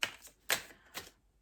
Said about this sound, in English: They are quite glossy, they are quite slippy, but they shuffle really nicely